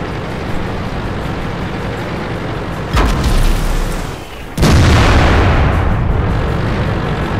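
Tank cannon shots and explosions in the World of Tanks video game: two heavy booming blasts, the second louder, each followed by a rumbling decay over a steady engine-like drone.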